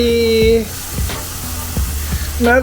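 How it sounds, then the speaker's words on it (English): Steady sizzling of mushrooms in a hot pan fills the clip, with occasional clinks of a utensil stirring and a few short tonal squeaks. "the mushrooms are sizzling"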